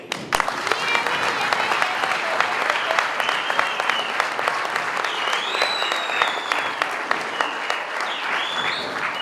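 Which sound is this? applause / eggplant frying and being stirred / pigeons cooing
applause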